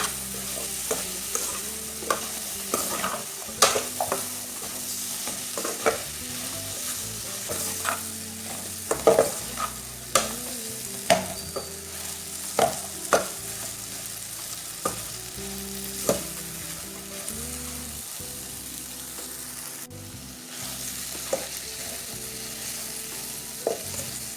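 Okra and tomato are stirred in a hot pan, with continuous sizzling and a steady run of utensil scrapes and taps against the pan over several seconds, close and clear with no talking.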